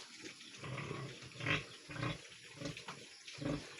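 Piglets feeding on pre-starter feed grunt and snuffle softly near a trough, a series of low, irregular grunts with some wet slurping.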